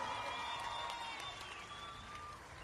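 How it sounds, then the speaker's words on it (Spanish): An audience at a salsa music festival applauds in the distance, a faint, continuous spread of clapping with crowd noise, and sustained musical tones running beneath it. "Un aplauso bien fuerte."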